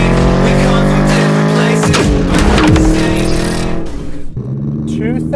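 2003 Ford SVT Cobra Terminator, 10th anniversary edition with 30,000 miles, pulling off on a test drive; steady loud engine drone rising through revs with a shift and brief tire noise, close and continuous.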